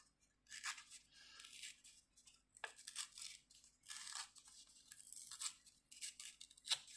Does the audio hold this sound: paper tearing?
yes